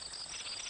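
A grasshopper chirps in the Elmo's Animals children's app, a faint, brief, high buzzing trill of insect stridulation lasting under a second, with no voices.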